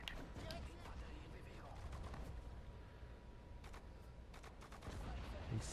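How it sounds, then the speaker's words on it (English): Long-range artillery fire in Sudden Strike 4, a World War II strategy game set at the Battle of Sedan in 1940, comes through as repeated booms and sharp blasts over a low rumbling battlefield din, quiet throughout. "that's a long-range artillery piece"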